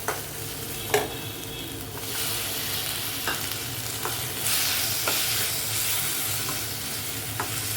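Onion, tomato and green chillies sauté in a pan with a soft, continuous sizzle, broken every so often by light taps and scrapes of a stirring spoon.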